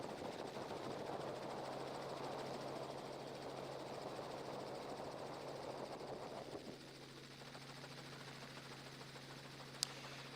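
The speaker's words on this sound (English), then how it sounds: "We're on board the helicopter following the leaders in the women's race" Aboard a helicopter following the leading women's riders in the 2024 Absa Cape Epic mountain bike race, the rotors and engine make a steady, even drone that grows slightly quieter partway through, with one brief click near the end.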